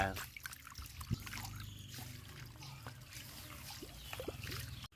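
Fish being washed in water for fermented fish paste: trickling, splashing and sloshing water with handling noises, fairly faint and close, with someone talking over it at times.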